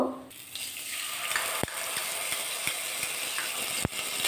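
Spice paste hits a pan of lightly fried cumin for an aloo paneer curry, giving a continuous crackling sizzle broken by a few sharp clicks of a utensil scraping and stirring.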